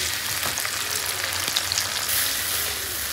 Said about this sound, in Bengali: এই যে পেঁয়াজ তেলের উপর দিয়ে দিয়েছি, আর বাটা মশলা দেবো